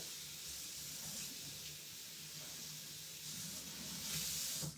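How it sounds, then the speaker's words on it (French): Tap water runs steadily into a sink, rinsing a craft stamp under the flow, a constant hissing splash that holds at an even level throughout. "Moi, je préfère le passer sous l'eau, je trouve que ça va plus vite."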